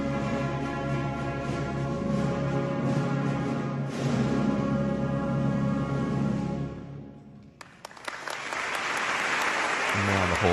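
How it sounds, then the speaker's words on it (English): Crowd applause swells to fill a large church at a ceremony where a woman seated on a raised throne is being crowned, heard from a played recording. Sustained, dense clapping runs under music throughout, with a brief dip before it surges back loudly. "And now the whole place is applauding"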